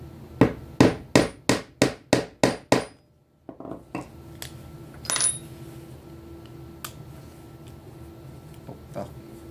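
A hammer strikes a metal snap button into a stiff leather knife sheath, set on a small metal cup to protect the spring: about eight sharp, evenly spaced metallic blows in a quick series, then quiet workshop handling noises.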